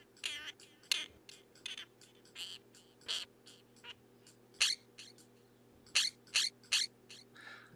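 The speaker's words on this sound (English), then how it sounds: "Just the various sounds this bird is making." Varied chirps and whistles from a red-tailed hawk character in the SkateBIRD game, played back one after another with a compressor and delay, in short bright bursts with gaps between them over a faint steady hum.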